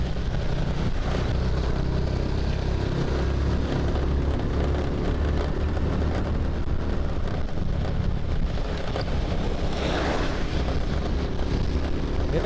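Steady rain and rushing wind buffet a motorbike riding along a winding, slippery mountain road between Batu and Kediri, a constant loud roar with engine rumble beneath.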